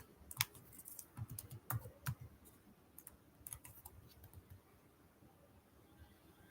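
Code is typed on a computer keyboard in short bursts of crisp key clicks, close and fairly quiet, busier in the first few seconds and thinning toward the end, with no talking.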